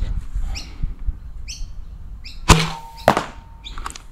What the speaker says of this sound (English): Alright, we need to fire one more dart out of this.